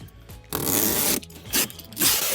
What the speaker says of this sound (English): we will peel off the red backing that's on our Velcro here